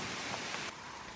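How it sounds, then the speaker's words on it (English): Rain falls steadily on a windy, chilly Appalachian Trail mountain path, a dense continuous hiss close by with no voices. "it definitely got windier and a little chillier, and it's definitely raining"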